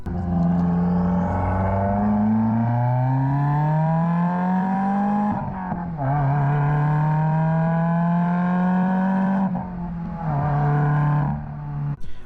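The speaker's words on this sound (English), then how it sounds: "I personally love the sound of the Grimspeed Catback exhaust." A 2015-2021 Subaru WRX with a Grimspeed cat-back exhaust drones loudly as the engine climbs through the revs, dips, and pulls again in long smooth sweeps with a raspy tone.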